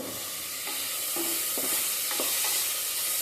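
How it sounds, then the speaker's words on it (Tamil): Sliced carrot and cabbage sizzle steadily in a pan while a spoon scrapes and stirs them every half second or so. The frying is close and continuous, and no one speaks. "1 மினிட் அந்த மாதிரி ஃப்ரை பண்ணிக்கலாம்."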